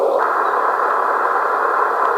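Steady hiss of white noise from an X1M PRO amateur radio receiving on sideband, a continuous band of static with no other sounds.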